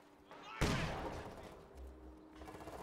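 A single sharp, loud blast from a mortar in a WWII strategy video game, followed by a rumbling decay and quieter background battle noise.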